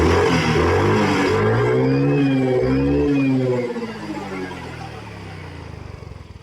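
A Yamaha Mio 125 scooter engine, just adjusted after a throttle body cleaning, revs up with rising and falling harmonic tones, then settles to a lower, quieter idle with a pulsing putter at the end.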